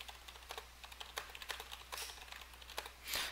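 Fast, close typing on a computer keyboard, a quick run of soft clicking keystrokes with a brief louder rustle at the end.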